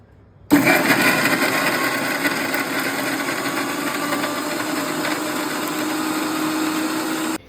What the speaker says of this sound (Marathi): आता आपण ग्राइंडरचं झाकण लावूया आणि ते ग्राइंड करूयात